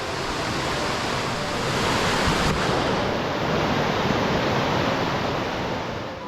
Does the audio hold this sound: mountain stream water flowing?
yes